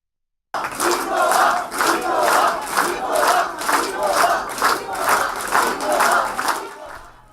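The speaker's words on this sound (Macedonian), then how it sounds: "Толпа граѓани пред се кумановци се собраа за да бидат дел од големиот настан" Large crowd of citizens at a VMRO-DPMNE political rally in Kumanovo, North Macedonia, chanting in loud rhythmic bursts roughly twice per second, with clapping mixed in throughout.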